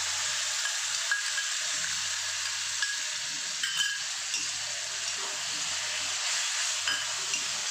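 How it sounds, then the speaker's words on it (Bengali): Grated tomato fries in a pan with a steady, bright sizzle and occasional soft scrapes of stirring, close and continuous without any talking. "টমেটোটাকে 1-2 মিনিট আমি নেড়ে নেবো, কাঁচা গন্ধটা কেটে যাওয়ার জন্য।"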